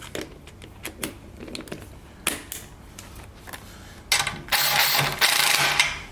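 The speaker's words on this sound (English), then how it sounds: "you want to change over now to the 15 mil" A ratchet with a 15 mm socket tightens a bash plate bolt on a Husqvarna 701 motorcycle, producing close, irregular clicks and metallic taps, ending in a louder burst of fast ratcheting.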